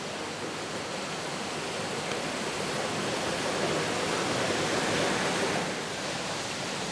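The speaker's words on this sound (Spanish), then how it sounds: "Mira cómo está trayendo el agua por aquí." Spring water in the Azuaje ravine near Firgas pours and rushes in a continuous, dense roar, steady and close with no pauses and no voices.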